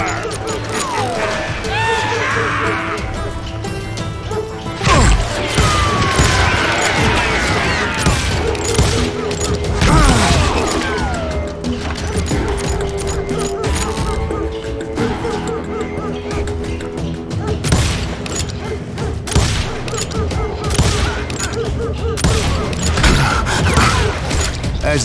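A chaotic Wild West shootout in Call of Juarez: Gunslinger, with rapid overlapping gunshots, crashes and creaking wood, loud and sustained throughout.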